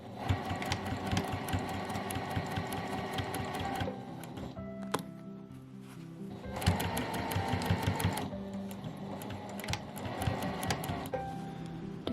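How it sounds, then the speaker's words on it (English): Sewing machine stitching along the edge of a small quilted pin cushion, a steady close mechanical whir running in bursts with short pauses between runs. "I'm actually going to take this over to my machine and just sew right along this edge"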